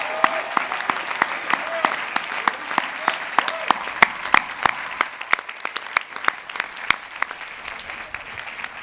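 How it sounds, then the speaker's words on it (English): Dense applause from a large commencement crowd honoring graduates at a university ceremony, sustained sharp clapping throughout with a faint voice underneath. "I'd ask everyone to join me in giving a warm round of applause as we commend these graduates on their accomplishments."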